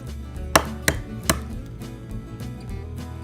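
Cake batter for a lemon raspberry breakfast cake being beaten in a bowl: three sharp knocks of the utensil against the bowl, then softer, steady scraping and stirring, close and alone.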